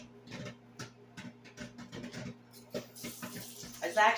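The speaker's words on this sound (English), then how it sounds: "And then I top it off with cold water." Cold water runs from a tap in a home kitchen during popcorn preparation, rising to a loud, close rush of water in the last second after quieter tapping and handling sounds.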